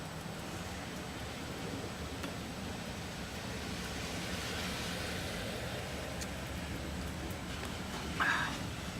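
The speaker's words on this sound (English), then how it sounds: "So I'm outside right now, and it's raining." Rain falling outdoors, a steady broadband hiss that stays even and continuous throughout, moderately quiet with no voices.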